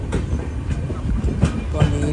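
The Netravati Express pulls out of Nileshwaram railway station with rumbling wheels and soft rhythmic clacks heard from inside the carriage, with faint voices nearby.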